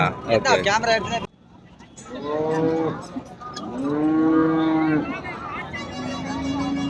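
Cows at a cattle market in Karimangalam, with several long, loud moos drawn out one after another while people talk nearby and market bustle hums underneath.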